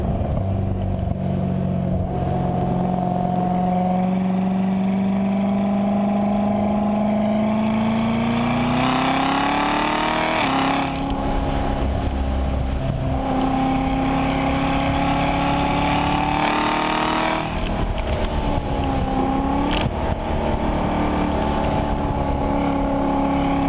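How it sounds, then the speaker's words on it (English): A 2019 Corvette Z06's sustained engine drone with a steady exhaust rumble, rising in pitch as it revs up several times, loud and continuous throughout. "The exhaust note of this vehicle is really specific"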